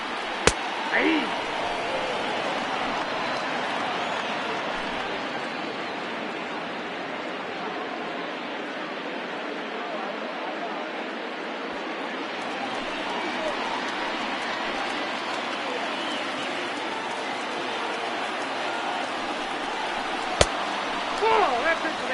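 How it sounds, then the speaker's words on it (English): A baseball stadium crowd in the video game MLB The Show 20, during a Cubs versus Dodgers game, keeps up a steady, roaring wash of cheering that stays loud and even throughout, with a couple of brief sharp knocks. "Gotta love a late rally, and listen to this crowd now. They are really into this."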